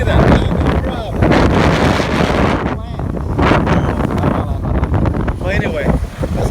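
Strong gusty wind buffets the microphone during a DJI Spark drone flight by the sea, a loud continuous roar with rushing surges and brief dips, with speech partly buried beneath it.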